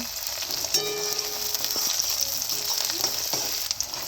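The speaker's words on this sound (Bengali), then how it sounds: "প্রথমে দিয়ে দিচ্ছি পেঁয়াজ কুচি, লঙ্কা, আদা রসুন কুচি" Chopped onion, green chili, ginger and garlic frying in oil make a bright, continuous sizzle and crackle, with occasional clinks and scrapes of stirring close by and no voices.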